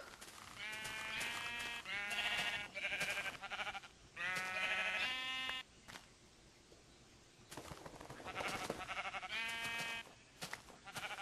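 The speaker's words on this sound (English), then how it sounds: "Sheep." Sheep in the Minecraft video game bleat several times in bursts, some close together and some after short pauses, fairly loud over a quiet game background.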